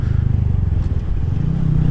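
Honda Grom motorcycle being ridden, its small engine droning steadily up close with a low, even hum that rises slightly in pitch toward the end, no voices over it.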